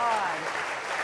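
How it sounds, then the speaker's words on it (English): An audience at a church conference session claps in a dense, continuous burst that lasts the whole moment, with voices blended underneath. "you're clapping for him"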